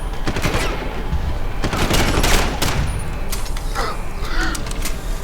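Dense, rapid gunfire from the video game Deus Ex: Human Revolution fills the scene in loud, overlapping bursts with sharp cracks throughout, and no speech comes through.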